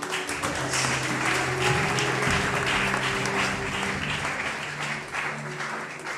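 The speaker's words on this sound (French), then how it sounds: "On peut applaudir pour" An audience at a book launch claps in a dense, steady round of applause that stays loud and even throughout, with faint voices underneath.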